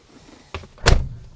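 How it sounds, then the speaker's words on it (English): The door of a rusty 1980 Mercedes W123 300D diesel shuts close by: a lighter knock, then a heavier, louder slam with a brief rattle afterward. "let's close the door"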